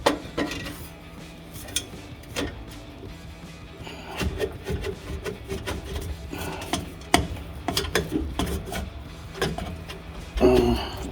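A metal exhaust extension pipe is fitted under a 2019-2023 Ford Ranger during an MBRP 3-inch dual exhaust install, with irregular metallic clanks, scrapes and ratcheting clicks nearby and a louder rattle near the end.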